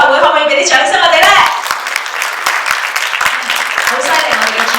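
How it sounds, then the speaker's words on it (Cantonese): An audience applauds at the press conference for the Timeless Classic concert. A voice speaks at first, then scattered hand claps follow steadily for several seconds. "可唔可以俾啲掌聲我哋呢？"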